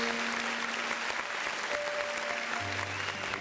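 Church congregation applauding God during a Portuguese-language worship service, a steady dense wash of clapping that stays loud throughout, with faint sustained tones and a low hum beneath.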